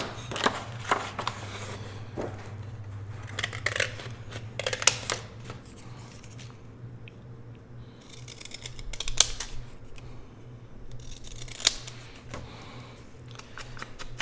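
Paper snipped with scissors while cutting out a small ticket for a papercraft belly band and accordion fold pocket: a series of close, crisp cuts in irregular bursts over a faint background hum, with no talking.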